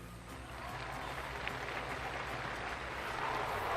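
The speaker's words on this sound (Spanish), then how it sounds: "Y el aplauso de los fieles congregados en la plaza de San Pedro acoge la bendición del Santo Padre." Faithful gathered in St. Peter's Square applaud after a papal blessing at Mass, a broad, steady wash of distant crowd clapping that holds even and continuous with no voices rising above it.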